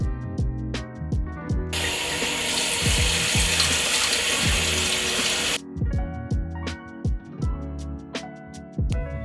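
Running water at a bathroom sink while a face is rinsed: a steady broadband gush for about four seconds, with splashing and clattering handling sounds before and after.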